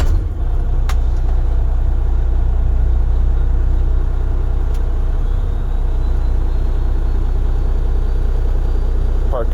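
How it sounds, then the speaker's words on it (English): A Volvo D13 truck engine idling, a loud, steady low rumble that holds constant throughout, with a couple of faint clicks over the top. "The engine must be idling"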